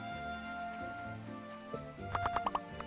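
Rain falling in the farming life-sim game My Time at Portia, a steady patter under game music with a few brighter chiming notes near the end.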